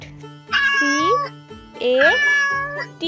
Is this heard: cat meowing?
yes